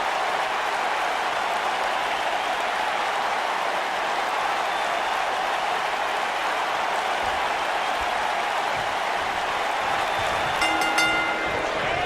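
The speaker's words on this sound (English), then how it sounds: "And Michael, it sounds to me like this crowd already picked the one who they want to win this match." Wrestling arena crowd roaring and applauding before a singles match, a dense, loud, sustained wash of cheers and clapping filling the whole space, with a brief burst of noise near the end.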